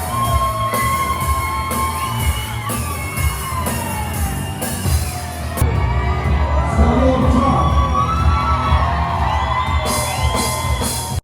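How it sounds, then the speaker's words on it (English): Concert crowd cheering and whooping during a live guitar solo, a loud sustained wash of shouts and yells mixed with the band's ringing guitar and drums throughout. "to hear the crowd cheering during that part"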